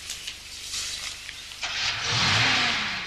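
A car accelerating away hard with its tires spinning, an engine roaring up and building into a loud, broad rushing hiss and whine in the last half, preceded by softer rattling.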